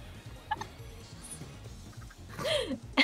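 Chickens in the video game Minecraft give a few brief, scattered clucks over a quiet background, with a louder pair of calls near the end and faint voices in the mix.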